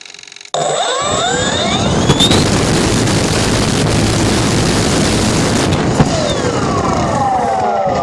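An electric RC aircraft motor pulls about 427 watts at roughly 30 amps. After a short quiet start it bursts into a loud, sustained full-power whine and roar, with pitch sweeping up at the start and down toward the end.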